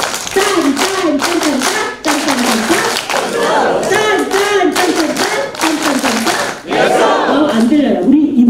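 A church congregation at a leadership retreat claps steadily in rhythm while voices chant loudly over it, energetic and continuous throughout.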